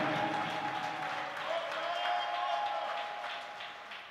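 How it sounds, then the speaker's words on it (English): Church congregation clapping for pastors and ministers, a steady wash of applause from a crowd that holds throughout and tapers slightly at the end. "Can we clap for all of them?"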